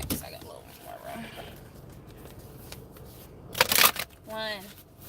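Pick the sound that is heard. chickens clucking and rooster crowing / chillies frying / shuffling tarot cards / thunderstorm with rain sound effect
shuffling tarot cards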